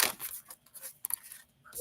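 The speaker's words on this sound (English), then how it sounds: "One more shuffle." Tarot or oracle cards being shuffled by hand, a papery riffle and rustle with short crisp bursts, close and moderately loud, with no talking.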